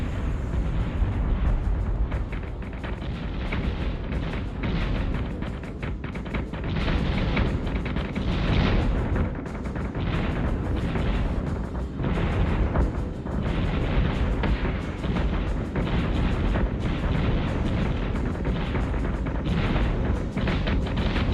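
Naval artillery fire in the Ghost Fleet game, a steady barrage of booming shots and explosions with a dense rumbling low end, continuing for over twenty seconds with almost no talk.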